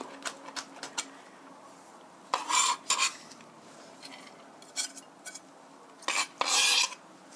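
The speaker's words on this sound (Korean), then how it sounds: "당근은 색상 맞춰서 컬러풀하게 들어가는 거니까 이렇게 다져주시고요" Quick knife chops tap against a cutting board in short irregular bursts as carrots are minced, with a few brisk scraping strokes in between, close and crisp.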